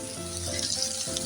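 Potatoes fry in a pan with cumin and coriander powder, a soft continuous sizzle heard alone at low volume.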